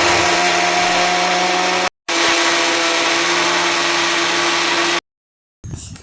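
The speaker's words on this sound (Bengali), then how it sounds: "চারখানা আমের পিউরিটা ভালো করে বের করে নিয়ে এবার গ্রাইন্ড করব" An electric blender grinds mango puree for a mango custard, a loud whirring roar that cuts out briefly, starts again, then stops, followed by a faint rattle.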